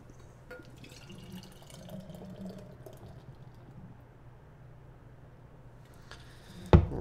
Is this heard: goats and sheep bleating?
no